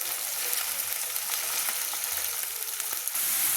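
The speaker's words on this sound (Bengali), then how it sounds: "যতক্ষণ না লাল লাল করে ভাজা হচ্ছে ততক্ষণ কিন্তু আমি নেড়ে নেব।" Chopped onion fries in hot oil in a pan while it is stirred, giving a continuous bright hiss with scattered small crackles and occasional scrapes, close and steady, with no talking.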